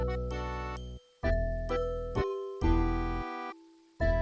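Christmas remix of a RuneScape track with jingling bells, video game music playing loudly in sustained phrases with brief pauses between them.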